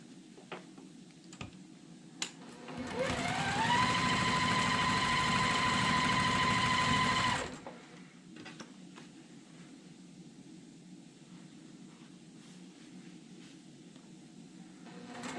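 A sewing machine runs steadily for about five seconds while stitching quilt block pieces together, a close, even mechanical whir that starts and stops cleanly, with quiet handling sounds before and after.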